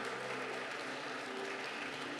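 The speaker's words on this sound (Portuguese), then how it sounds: "Aplauda ao Senhor nessa noite." A congregation applauds during a night church service, a dense, even wash of clapping heard at a distance that holds steady throughout.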